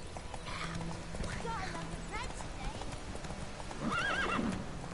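A horse in the video game The Witcher 3 trots and gallops with rapid hoof clip-clops and a whinny near the end, heard close under a man's speech.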